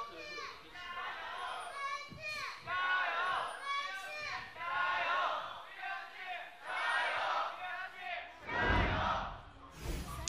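Fans in an esports arena at a League of Legends LPL match between Bilibili Gaming and Vici Gaming cheer and chant in a loud, continuous wash of voices, swelling and falling beneath steady commentator talk.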